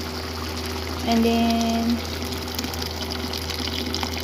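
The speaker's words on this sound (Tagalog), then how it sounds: "So lalagyan na po natin ng tubig at this time." Water pours into a pot of kabsa meat and tomato juice for a few seconds, a brief splashing fill over steady kitchen background noise, with a person speaking.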